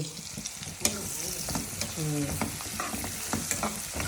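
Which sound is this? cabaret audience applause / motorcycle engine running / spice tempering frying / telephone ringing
spice tempering frying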